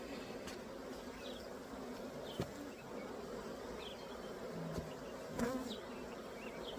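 Honey bees buzz steadily around a hive being split, a continuous hum near the microphone with a few individual bees passing close.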